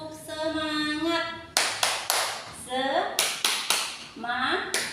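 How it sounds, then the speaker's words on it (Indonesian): A classroom of students claps a rhythmic spirit cheer, sharp unison hand claps in short patterned groups alternating with a teacher's voice and the children's chanted responses. "Kita lakukan tepuk semangat seperti biasa ya nak ya. Oke semuanya, 1, 2, 3, tepuk semangat"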